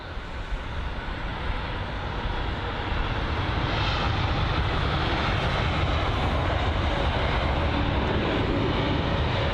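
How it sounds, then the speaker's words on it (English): An Air France Airbus A380 on arrival at London Heathrow roars continuously, a loud broad jet engine rumble that holds steady and swells slightly as it passes close by, with no talking. "So we've got the A380 operated by Air France."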